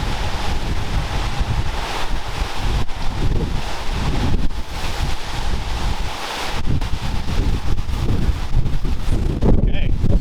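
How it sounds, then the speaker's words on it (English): Hurricane wind roars across a lake, a loud continuous buffeting gust noise with heavy microphone rumble and water churning beneath, and a voice speaking over it at times. "It's probably hard for you all to tell because you can't feel the wind like I can"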